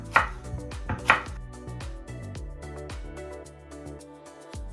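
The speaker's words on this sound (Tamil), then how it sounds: "கறிமிளகாய் நான் எனக்கு பிடிச்ச அளவுல தான் வெட்ட போறேன்." Knife chopping capsicum chillies for Sri Lankan achcharu pickle on a board, a few sharp close taps early on, then softer cutting under a steady background hum.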